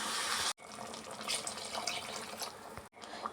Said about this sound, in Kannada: ಮೂರು ಗ್ಲಾಸಷ್ಟು ನೀರು ಸೇರಿಸ್ತಾ ಇದ್ದೀನಿ ಈಗ